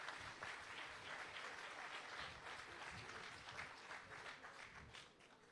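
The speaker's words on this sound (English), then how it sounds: "Please give him a round of applause." Audience applause at the state funeral of former Prime Minister Edward Seaga, a dense, sustained clapping from a large crowd filling the space, easing slightly toward the end.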